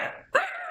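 A man imitates a dog barking with his voice, giving a single sharp, convincing bark after a short growly lead-in, close and fairly loud.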